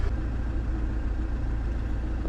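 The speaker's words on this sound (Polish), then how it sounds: "Odpaliłem silnik, zaraz się dowiemy." A boat's engine runs steadily on the water after being started, a continuous low rumbling drone at close range with no break and no voices.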